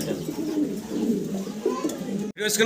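A male fancy pigeon, one of a pair of new adult blue bar and blue barless birds, gives low, repeated rolling coos close by, with faint background voices.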